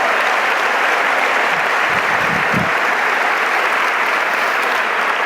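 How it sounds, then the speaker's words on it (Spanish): A Spanish-speaking church congregation applauds the Lord after a sermon, a loud, sustained wash of many hands clapping with no pauses. "Den un aplauso al Señor."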